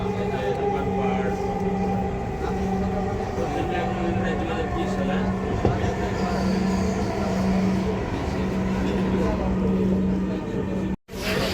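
Inside a moving Dhaka metro rail train, a steady electric rumble with a low sustained hum and faint mechanical whine runs throughout, with voices and onboard sound in the carriage and a brief dropout near the end.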